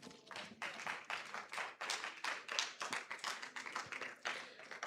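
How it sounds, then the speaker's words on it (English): Audience at a youth debate regional quarterfinal claps for the debaters, a dense stretch of steady hand clapping lasting several seconds, moderately loud and sustained. "I think that we can do better with the applause"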